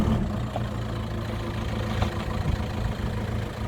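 A car engine idles with a low, steady hum and faint rumble, even and unbroken, at moderate distance with no voices over it.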